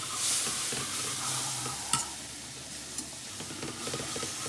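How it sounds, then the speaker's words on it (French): A cream sauce for seafood pasta is stirred continuously in a hot pan, a steady close sizzle and bubbling hiss with soft spoon scrapes and a few small clinks, no talking. "Et on brasse tout le temps, c'est pour éviter d'avoir des grumeaux"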